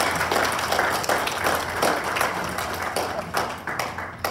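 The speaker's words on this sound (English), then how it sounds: "Give them all a round of applause there" A congregation applauds the mothers at a church service: steady, dense clapping from many hands that carries on evenly for several seconds.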